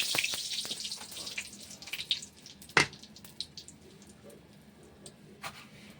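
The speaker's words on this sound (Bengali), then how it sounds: "এদিকে কড়াইয়ে তেল গরম হয়ে গেছে এবং শুকনো মরিচ দিয়ে দিলাম" Dried red chilies crackle and sizzle in hot oil in a wok, a soft steady hiss that fades over several seconds, with a sharp clatter partway through and a few quieter utensil taps.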